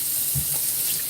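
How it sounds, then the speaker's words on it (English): Water runs steadily from a tap while a pet water fountain is being cleaned, a constant close hiss with a few soft splashes and no voices. "The water fountain."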